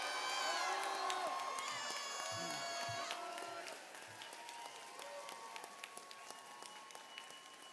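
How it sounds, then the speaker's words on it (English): Graduation audience applauding and cheering for an award winner, steady clapping with whoops and shouts, loudest at first and then thinning, with voices talking over the crowd. "Give them a round of applause"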